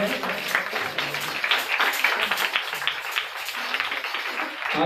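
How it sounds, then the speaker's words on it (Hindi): A church congregation applauds with dense, lively clapping that runs steadily throughout at close range, with voices mixed in. "इस कलाम के हिस्सा के लिए जोरदार तालियां बजाएंगे"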